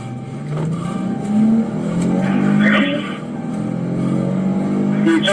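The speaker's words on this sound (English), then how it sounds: "And then just start the car, go." A stolen police patrol car's engine starts up and revs hard as it pulls away, the close motor roar rising and falling with some tire noise, while voices talk over it.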